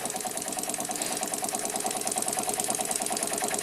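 A circa-1900 Bassett-Lowke model steam engine runs steadily, giving a fast, even chuffing and mechanical clatter close by, with no one talking.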